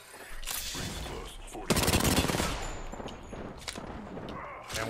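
Gunfire in the video game Apex Legends, several rapid bursts of automatic fire at close range, loud and dense, with a player's voice talking over parts of it.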